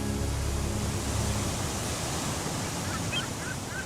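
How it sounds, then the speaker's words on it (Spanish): Sea waves break against basalt columns on the Icelandic coast in a continuous rushing wash, with a few faint bird calls near the end. "se aprecian columnas basálticas azotadas por las olas"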